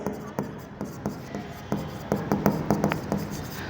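Pen scratches on paper as accounting entries are written by hand, with short rhythmic strokes that speed up into quick bursts near the end, heard close up.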